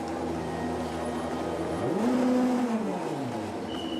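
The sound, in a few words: DTM race car driving into pit lane and parking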